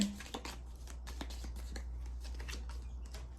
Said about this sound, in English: So I split the deck in half, and we shuffle it that way.